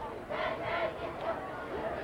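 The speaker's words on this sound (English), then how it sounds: "Pretty good crowd on hand tonight for tonight's game" Crowd noise at a high school football game between Burlington, Iowa and Davenport West, a distant roar of cheering fans rising and falling behind the field, fairly faint.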